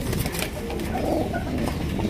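Sirazi pigeons coo softly at a large pigeon farm, with low, overlapping murmurs and flutters forming a continuous dense background.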